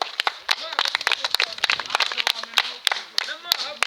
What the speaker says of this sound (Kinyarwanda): hari ugukoma amashyi no kuyakomana agasuzuma